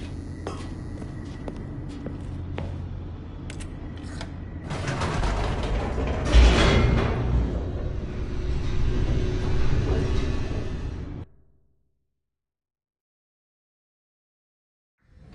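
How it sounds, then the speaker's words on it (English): An elevator descends in the video game The Stanley Parable, with a steady mechanical rumble and creaking that swells into a grinding rush before cutting off abruptly into silence. "The elevator raced downward, plummeting towards an unknown fate."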